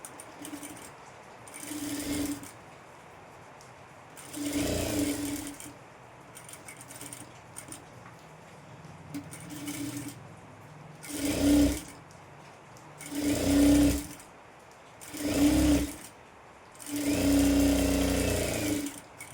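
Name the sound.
sewing machine stitching a blouse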